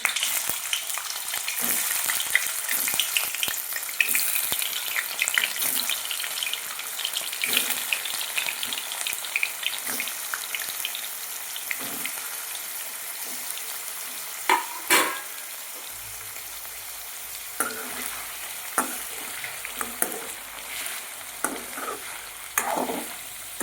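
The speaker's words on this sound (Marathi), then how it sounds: "मी हे तेलामध्ये ही पनीर थोडंसं तळून घेणार आहे" Paneer cubes frying in hot oil for matar paneer masala give a steady crackling sizzle, loud and close, broken by occasional stirring scrapes and pops, settling into a quieter fizz toward the end with no talking.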